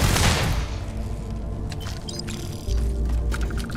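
Gunfire and a grenade blast in the space game Starfield, opening with a heavy boom followed by scattered shots and rumbling combat sounds, loud and close.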